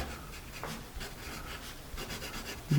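A Paper Mate Exam Standard pencil writes on paper with a soft, scratchy rubbing, quiet strokes running steadily and close by, no voices.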